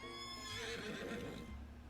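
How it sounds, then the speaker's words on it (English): A horse neighs and rears in the video game I Love You Colonel Sanders, one loud shrill whinny with faint hoof movement underneath, heard alone. "your sudden movement surprised the horse. It rears up, kicking you directly in the face."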